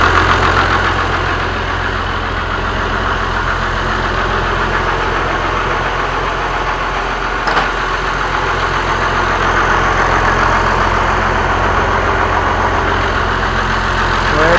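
A loud, steady engine idling with an exhaust leak, a rough, puttering low rumble that persists unbroken throughout, close and constant.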